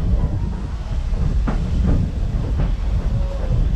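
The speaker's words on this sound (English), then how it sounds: "In case you're wondering about the speed of our train" Norfolk and Western 611 passenger train rolling on rails, a steady loud rumble with a few sharp wheel clicks and squeals, heard from on board.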